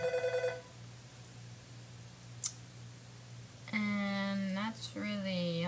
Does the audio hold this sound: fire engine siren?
no